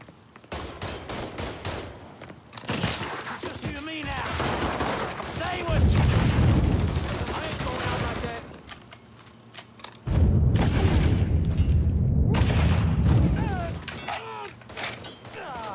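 Mafia III gameplay with rapid gunfire, bursts of shots and booming impacts scattered throughout, heavier volleys around the middle and later, mixed with game sounds and some talk.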